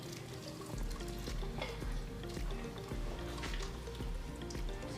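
Birria ingredients dropped into a hot pot sizzle and fry loudly, with a steady crackle, splattering pops and stirring noises running throughout with no talking.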